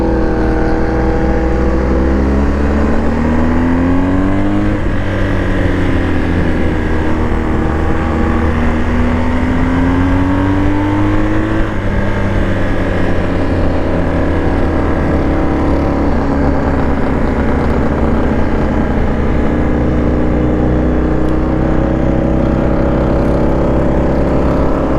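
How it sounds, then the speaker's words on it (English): A 2023 BMW R 1250 GS Adventure motorcycle revs hard at high RPM in a low gear, its loud, steady engine roar swelling in pitch several times as it accelerates, with no talking. "In a low gear, use more RPM, don't worry about fuel mileage here."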